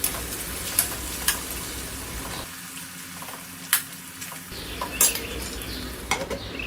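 A spoon stirs parval (pointed gourd) vegetable curry in a pan, giving scattered scrapes and light metallic taps over a soft steady sizzle, with a brief quieter pause midway.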